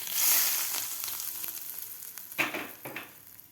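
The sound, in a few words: hot oil poured into methi pakora batter, sizzling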